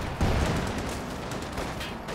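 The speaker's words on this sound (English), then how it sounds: "He's launching a rifle grenade" Rifle grenade fire and other shots in a Company of Heroes 2 battle, heard as a steady, dense stretch of overlapping gunfire and blasts at moderate distance.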